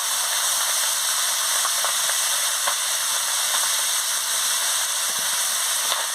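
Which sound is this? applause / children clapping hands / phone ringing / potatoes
potatoes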